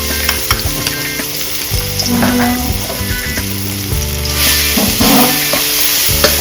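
Pounded chili and garlic paste fry in oil with clams in a pan over medium heat, a loud continuous sizzle with scraping stirs and occasional shell clatter.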